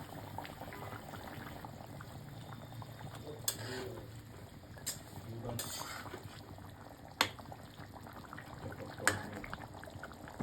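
Water comes to a gentle boil in a pan for fish curry, steady bubbling and burbling up close with a few soft clinks of a utensil.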